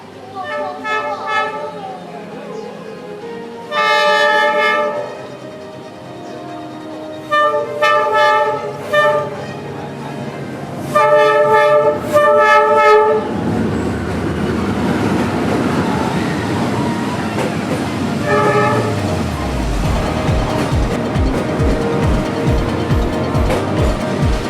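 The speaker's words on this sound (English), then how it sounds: "one of only 2 trains that were supposed to come past this day drove past us right when we sat down" A train rumbles past in northern Vietnam with several long, loud horn blasts in short bursts, followed by a steady rolling rush of wheels on the tracks.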